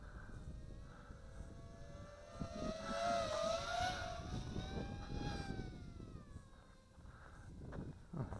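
An Ideafly Grasshopper F210 FPV racing drone flies at high speed with full forward pitch, its motors giving a continuous whine that rises and falls in pitch, loudest midway, over steady wind and background noise.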